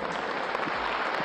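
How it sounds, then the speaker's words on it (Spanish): Brief burst of crowd applause for a mayor, Antofagasta's alcaldesa, at a public appearance, a short dense wash of clapping. "Aplauso para nuestra hermana alcaldesa."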